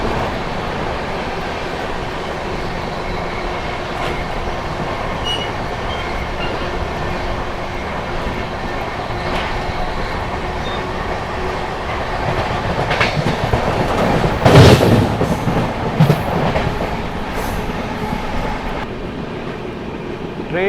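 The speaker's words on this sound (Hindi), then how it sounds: "यहाँ पर दोस्तों फिलहाल अपनी ट्रेन जो है इटारसी जंक्शन को बाईपास कर रही है" The 12723 Telangana Express bypasses Itarsi junction, heard from on board as a steady rumbling clickety-clack that swells midway with a few squealing wheel and brake sounds before settling back into its rhythm.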